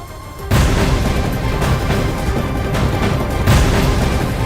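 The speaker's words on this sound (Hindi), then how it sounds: "ये इजरायल की सीमा के बिल्कुल पास गाजा की तरफ किए गए मिसाइल के धमाके हैं" Heavy missile explosions at night near the Gaza-Israel border boom in sequence, loud and rumbling, with a dense roar of low noise between sharp blasts.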